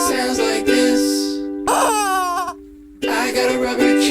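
A rubber chicken squeaks once in a wavering, falling squeal, set between louder bursts of bright, sung or musical sound.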